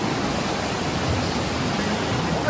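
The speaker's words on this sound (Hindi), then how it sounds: "इतना सारा पानी." Loud, steady rushing of a large volume of water, a continuous broadband roar close by with no breaks.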